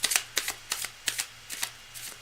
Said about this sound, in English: now I'm doing shuffling again, so this is going to be a really pristine deck